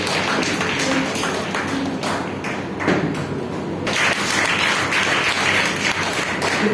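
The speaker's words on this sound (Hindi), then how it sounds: "जोरदार तालियों से स्वागत करें" Dense, steady applause from an audience welcoming a speaker at a book launch and honours ceremony, sustained and fairly loud throughout with slight swells.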